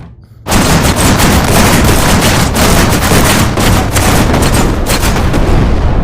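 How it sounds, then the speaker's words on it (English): Mines detonating in the Shotwood VR game, a sudden onset into a loud, sustained barrage of rapid explosive cracks and booms that continues without a pause. "I used the mines to destroy those"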